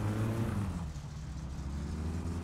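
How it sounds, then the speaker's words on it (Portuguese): The Satsuma's engine in My Summer Car labours and drones, its pitch sagging at first and then holding as a steady, loud, close hum with no talking over it. "Mas esse carro tá demorando demais pra pegar, velho"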